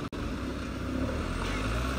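A car engine labors steadily while reversing uphill, a loud continuous drone close by with a brief dropout near the start and no talk.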